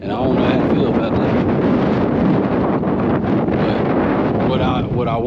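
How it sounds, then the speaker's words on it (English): Strong wind buffets the microphone outdoors in the Salt Creek Wilderness near Roswell, New Mexico, a loud continuous roaring rumble with no letup. "But the wind, oh my God, it's getting stronger."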